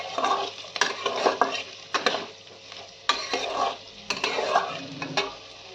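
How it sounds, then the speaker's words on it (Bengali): Onion, capsicum, chili and tomato frying in a pan, stirred in repeated bursts of scraping and clinking spatula strokes over a close, steady sizzle; no voices. "পেঁয়াজ, ক্যাপসিকাম, লঙ্কা আর টমেটোটাকে ভালোভাবে ভেজে নিচ্ছি"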